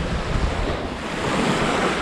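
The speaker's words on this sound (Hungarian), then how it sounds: "Ez a folyton fújó, erős, idegesítő szél." A strong, constant wind blows at the Greek seaside near Stavros, roaring across the microphone in a dense, unbroken rush with surf blended underneath.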